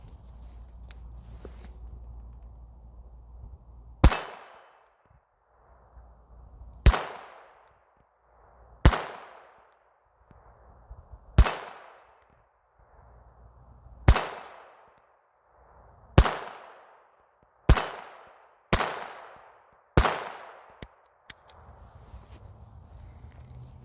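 A Taurus Model 94 .22LR revolver fires about ten sharp, loud single shots at objects, spaced one to three seconds apart, each crack followed by a short fading ring.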